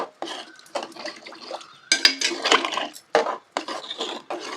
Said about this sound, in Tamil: மூணு டம்ளர் தண்ணி சேர்த்து நல்லா கிண்டி விட்டுருவோம்